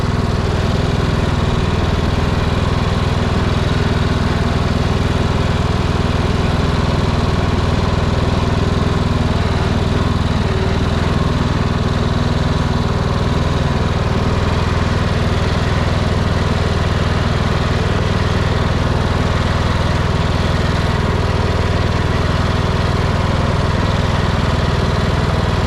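A Cub Cadet lawn mower engine runs steadily nearby with a loud, constant drone and no noticeable changes in speed, and no one speaks.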